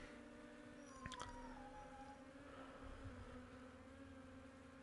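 A dog howls faintly in a home, a thin rising and falling wail behind a steady background hum, distant and quiet for the whole stretch.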